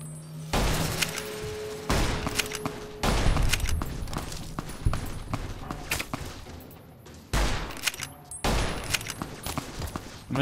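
Repeated loud bursts of gunfire in Fallout New Vegas during a raid on a Legion camp, volleys of several seconds each broken by brief lulls, close and sharp with crackling impacts.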